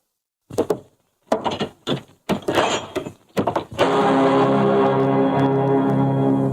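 Wooden door in an old Hindi film scene, with a series of loud thunks, knocks and rattles as it is worked open, followed by a steady sustained background of room noise and music.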